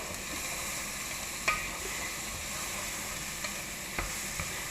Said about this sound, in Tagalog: Lagay ko ng sibuyas. Haluin ko lang ng haluin hanggang sa maluto.